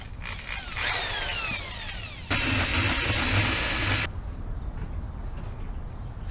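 A power drill with a drill bit whirs loudly and close, with rising and falling speed sweeps followed by a steady, harsher high-speed burst that cuts off sharply.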